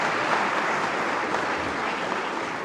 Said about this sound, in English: let's give a round of applause to yourselves